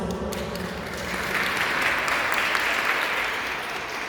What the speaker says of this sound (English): All of our partners, can we please give them a round of applause?